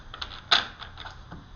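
A Rider-Waite tarot deck being shuffled, giving a run of light card riffles and taps with one sharper flutter, close and quiet.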